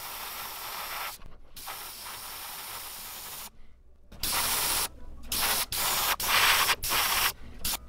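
Black spray paint misting onto a pearl-finished fathead minnow weight transfer jerkbait lure, heard as close hissing bursts, first long and steady, then a run of short, louder sprays separated by brief pauses.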